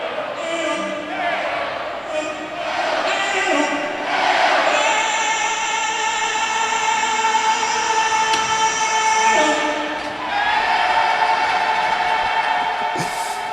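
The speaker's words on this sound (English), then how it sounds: "Crowd in a little call and response chant." Hockey crowd at the Civic Center chanting call and response, a loud massed roar of voices that rises and falls in repeated waves over echoing arena reverberation.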